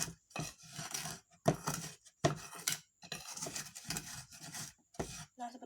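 A solid is ground into fine powder for a reaction-rate chemistry demonstration, heard as a series of short, close scraping and rubbing strokes in irregular bursts with brief pauses between them.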